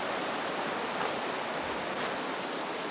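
White water river rapids roar in a dense, steady rush of churning water that stays loud and unbroken throughout.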